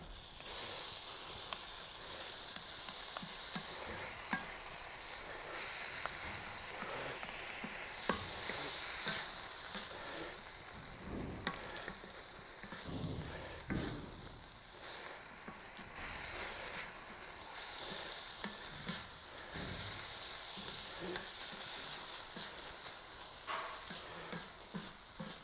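Steak sizzles steadily in a hot pan for a Philly cheesesteak, a continuous hiss with scattered stirring and scraping clicks, fairly quiet and close with no talking.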